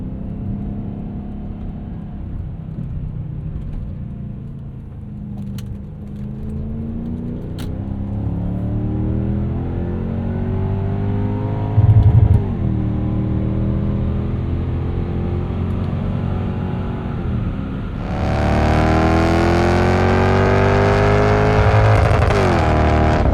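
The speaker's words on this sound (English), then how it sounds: "let's do an entrance ramp. I'll shut up and we'll listen to some more V8." A 1998 Lexus GS 400 V8 with a Megan catback exhaust accelerates up an entrance ramp, its engine note climbing steadily in pitch through the gears, then swelling into a louder, harder pull near the end, heard from inside the car.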